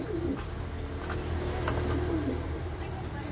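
Pigeons cooing close by in a racing-pigeon setting, soft repeated low coos over a steady background hum, with faint chirps mixed in.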